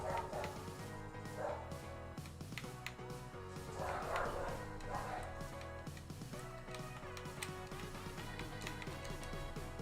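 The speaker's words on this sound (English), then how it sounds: "The dogs are losing their shit at the door again." Several dogs bark and yip excitedly at a door indoors, repeated bursts of barking with whimpers between them, moderately close, under a steady background hum and without clear talk.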